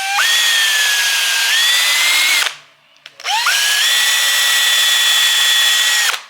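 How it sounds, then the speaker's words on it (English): Power drill with a countersink bit boring into wood lumber for a custom side table, two loud sustained whining runs with a brief pause between them, close up. "So I got my countersink going."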